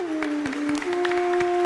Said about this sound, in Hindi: बजाइए ताली इनके लिए।